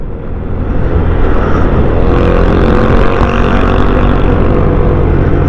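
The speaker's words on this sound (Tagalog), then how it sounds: "Gamit natin motor mga idol, Honda Click." Honda Click motor scooter climbing a hill near Monte Maria in Batangas, a steady droning engine mixed with rushing wind noise, constant and fairly loud throughout with no talk.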